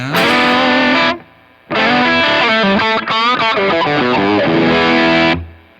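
Electric guitar played loud through an EP booster, Strymon Iridium amp modeler, Hall of Fame reverb and duo time delay pedals: a sustained chord ringing out, a pause, then a run of notes washed in echo and reverb.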